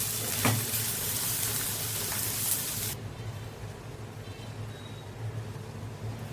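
Okra fries in a pan over medium flame, giving a steady close hiss and sizzle that drops to a softer crackle halfway through, with no talk.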